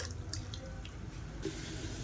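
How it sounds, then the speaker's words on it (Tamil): Water splashes and drips as a mixie jar is rinsed out after grinding chutney, a short, close run of small trickles and drops with no talk. "மிக்ஸி அலசிட்டு தண்ணியை சேர்த்துக்கலாம்."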